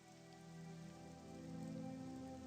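Cold rain falling in the video game Morrowind, a soft continuous patter on surfaces with a low steady hum beneath, quiet and unbroken throughout.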